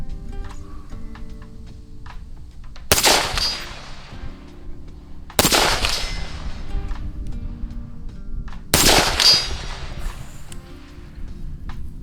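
Three loud rifle shots fired at 175 yards on an open Kansas range from a compact backpack gun, each a sharp crack with a ringing tail, spaced a few seconds apart.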